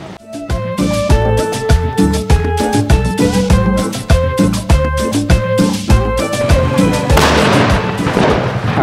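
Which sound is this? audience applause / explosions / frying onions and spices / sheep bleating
explosions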